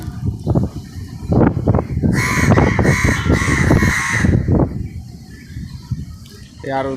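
Several crows caw loudly and harshly in repeated bursts close by, with more joining in, while someone talks over them.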